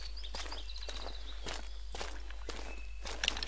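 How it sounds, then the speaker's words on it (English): Close footsteps in the hunting game The Hunter: Call of the Wild, on a savanna map: a steady series of soft thuds about twice a second, quiet and near, with no talking. "footstep. Like proper close"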